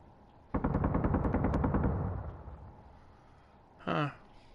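Gatling gun turret in the survival game Helios Underground firing a rapid stream of shots for about a second and a half, then tailing off into a fading rumble, followed by a short separate mechanical whirr.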